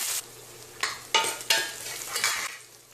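Onions being sautéed in oil in a pan, with a steady sizzle broken by several scraping stirs of a spatula at close range and no voices.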